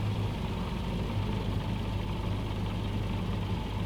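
Steady, even engine drone from a light aircraft taxiing off a paved runway in Microsoft Flight Simulator, a constant low hum with no breaks and no voices.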